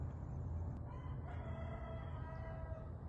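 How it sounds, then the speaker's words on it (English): A neighbor's rooster crows at a distance on a cool morning in a backyard, one faint drawn-out call heard alone over a low ambient rumble. "so you can hear the rooster crowing"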